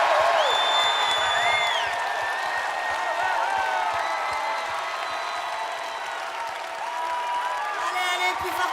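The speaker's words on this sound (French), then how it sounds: "j'aimerais maintenant que vous applaudissiez très très fort mes choristes adorés" A large arena concert crowd at Bercy applauds and cheers for the backing singers, a broad wash of steady clapping with whoops and high calls over it, continuous and fairly loud throughout.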